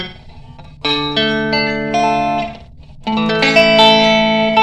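An electric guitar played through a DIY 99 DSP one-knob reverb pedal on its delay setting sounds two sustained chords, each ringing out in a wash of echoing reverb tails, loud and close.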